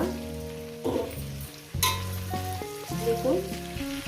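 Vegetables frying in oil for a potato and poppy-seed curry with drumsticks: steady close sizzling with scraping stirs and clanks of a utensil against the pan, with no talking.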